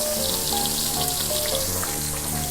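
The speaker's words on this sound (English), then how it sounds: "you want to dump in your onions and peppers, and we're just gonna cook that low" Half an onion, a banana pepper and a tablespoon of butter fry over low heat in a pan, giving a dense, steady, close sizzle with soft crackles and no voices.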